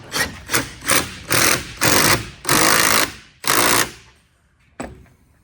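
Impact wrench running down a shock spring compressor on a 1981 Mazda RX-7, firing in a series of loud ratcheting bursts that grow longer, then a short final hit after a pause, close up with no talking.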